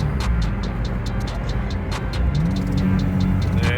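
An SVO car runs along an interstate after a downshift into fourth gear, with a steady engine drone and a rising tone near the end, plus rapid ticking clicks over it.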